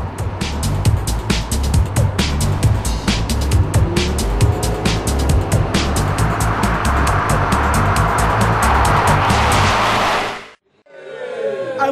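A Mercedes SLK 350 sports car with a 3.5-litre engine and 7-speed gearbox revs hard and accelerates loudly, its tires squealing over a steady roaring engine drone that cuts off abruptly near the end.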